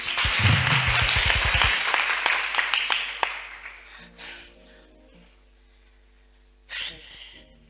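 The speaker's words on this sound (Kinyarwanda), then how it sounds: "nimukomere Imana amashyi." Church congregation applauding for God during a sermon, a burst of loud clapping in the first seconds that fades away, followed by quieter moments and a brief later sound.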